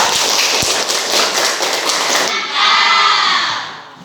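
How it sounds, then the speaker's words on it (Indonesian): A classroom group of teachers in training claps together for a presenting group, with loud, dense, close applause that carries steadily, then some cheering and fading claps as it winds down. "kita kasih aplaus bersama-sama untuk kelompok 2"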